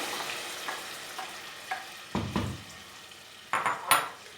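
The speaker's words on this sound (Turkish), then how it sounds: "yazdan hazırladığımız domates sosumuz var. Onu da ilave edeyim tencereme" A few soft clatters and scrapes of a spoon against a pot as thick tomato sauce sloshes in, close up, no talking.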